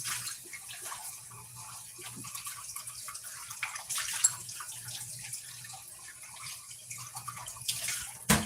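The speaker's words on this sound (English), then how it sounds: "I'm just rinsing a bowl out behind you." Water runs faintly from a tap as a bowl is rinsed under it, a soft continuous splashing with low background hum and occasional small clinks.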